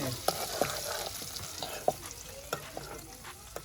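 Onions fry in a pan for a homemade burger, sizzling steadily while a ladle stirs them, its scrapes and taps landing as sharp clicks every half second or so.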